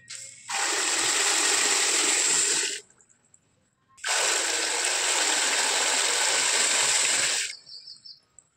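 Two long bursts of wheat grain poured from above in a steady hissing stream into water for washing, each lasting about three seconds, separated by a brief pause.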